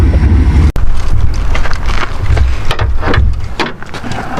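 An old Chevy 350 V8 in a project truck runs on leftover tank gas, a loud rough idle with wind buffeting the microphone and a sharp click early on.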